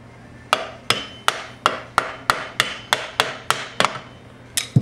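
A hammer taps a part onto a Whisperflo pool pump during repair, about a dozen sharp metallic knocks in a steady, evenly spaced rhythm, close and clear with no talking.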